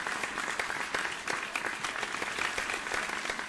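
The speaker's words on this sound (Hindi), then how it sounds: "बजाइए एक बार तालियां" Audience applause for honoured guests at a Hindi-speaking gathering, a steady sustained clapping from a crowd that carries evenly through the whole stretch without pause.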